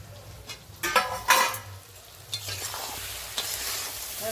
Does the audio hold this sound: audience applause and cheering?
no